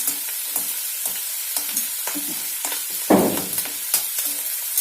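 Curry leaves fry in hot oil while being stirred, giving a soft steady sizzle with light scraping stir sounds and one louder burst of crackling midway.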